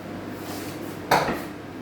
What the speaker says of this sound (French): Le beurre dans la poêle a fondu. On va y rajouter nos pommes.